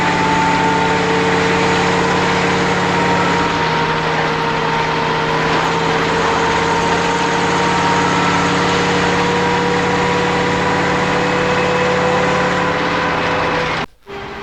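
A 1971 Chevrolet Chevelle V8 engine runs steadily at a loud, close, even idle for the whole stretch, a deep continuous drone that cuts out abruptly near the end, with no voices.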